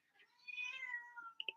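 A house cat gives a single drawn-out, rising and falling meow, faint and close, ending in a couple of small chirps.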